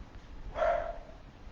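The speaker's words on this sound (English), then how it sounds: "the dog has to start barking right now as we're live" A single dog bark, slightly muffled and at moderate distance, rising out of a quiet room.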